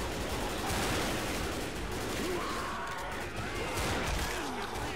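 Dual pistols fire at the Tank in the Left 4 Dead game, a dense, loud continuous barrage of overlapping gunshots with chaotic game noise throughout.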